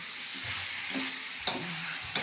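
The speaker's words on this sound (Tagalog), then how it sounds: "ginigisa-gisa na ho lang para matanggal yung langsa" Chicken sautéing in a pan for chicken afritada, a soft steady sizzle with a few scraping stirs and two sharp clicks of a utensil against the pan, close and fairly quiet, no talking.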